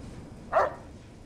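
A dog in Fallout: New Vegas lets out one short, sharp bark, fairly soft against a quiet background and with no talking.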